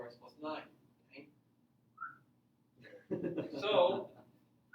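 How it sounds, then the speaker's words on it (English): Students in a classroom whistle in a few short, high tones scattered among chatter, followed by a louder burst of mixed voices near the end. "we're gonna be done whistling today"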